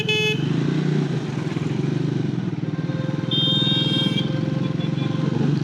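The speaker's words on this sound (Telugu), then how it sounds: "ప్రస్తుతం మనం రైడ్ చేస్తున్న బైక్ మోటార్ సైకిల్ స్పీడ్ 400" A Triumph Speed 400 motorcycle with a 400 cc engine rides steadily, its engine drone loud and continuous, with a brief high horn toot partway through.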